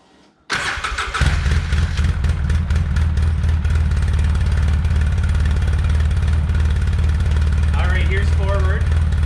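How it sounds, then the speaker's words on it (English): An ATV engine starts up and then idles steadily and loudly close by, shifted into reverse, with a faint whine rising briefly near the end. "Let's turn the machine on, put it in reverse again"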